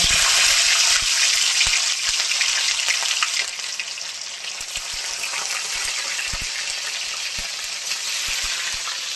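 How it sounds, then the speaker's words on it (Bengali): A live rohu fish fries in hot oil, a loud, continuous hissing sizzle with scattered pops and crackles throughout, easing slightly after the first few seconds. "এই যে জ্যান্ত রুই মাছ এবার তেলের মধ্যে দিয়ে দিচ্ছি"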